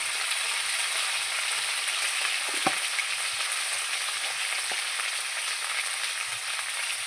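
Potatoes fry in a pan with oil, salt and turmeric, a constant close sizzle with a few soft stirring knocks, no voices.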